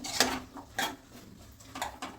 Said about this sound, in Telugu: మూత తీసి ఒకటి కలుపుకోవాలి